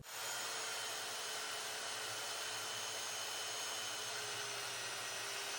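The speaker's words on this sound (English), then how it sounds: "Just go slow, let the saw do the work." Circular saw cutting freehand through wood for a decorative tissue box, a steady loud whine and roar that holds for the whole stretch without pause.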